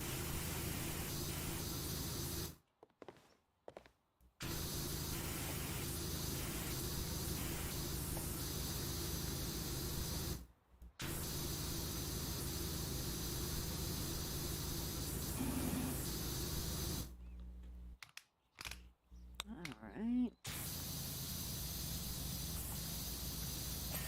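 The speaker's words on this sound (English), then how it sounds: "we need to make sure we're using a wide enough spray" Pressure washer spraying in the video game PowerWash Simulator, a steady hissing water jet running in long stretches, broken by several short silent gaps, with a brief spoken word.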